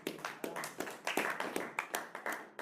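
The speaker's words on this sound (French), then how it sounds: "Ton acclamation me fait peur." A congregation at a French-language church service claps in a quick, fairly even rhythm, about a dozen sharp claps over a few seconds at moderate volume, with no clear cheering.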